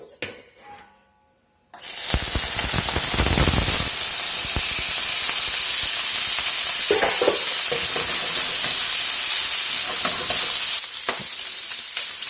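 Pork belly pieces sizzle loudly in hot oil in a wok, a steady, dense hiss and crackle that starts abruptly after a brief quiet moment and holds for several seconds before dropping slightly in level.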